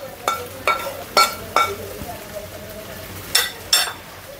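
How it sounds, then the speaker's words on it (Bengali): Bitter gourd (karela) frying with plenty of onion in a pan: a quiet sizzle punctuated by about seven sharp metallic spatula clinks against the pan, some in quick pairs. "এই যে করলা ভাজিটা হয়ে আসছে, এখন নামিয়ে দিচ্ছি"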